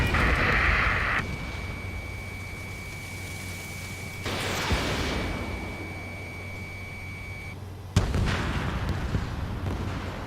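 A missile strikes the player's fighter jet in the combat flight game Ace Combat 7, a loud blast-like burst over a steady engine drone and a sustained warning tone, with a second sharp impact near the end.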